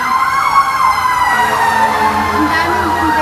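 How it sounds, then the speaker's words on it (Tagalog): Several fire trucks with wailing sirens pass along a highway, the rising and falling siren tones loud and continuous, overlapping with traffic noise and a nearby voice briefly heard. "Ang daming bumbero."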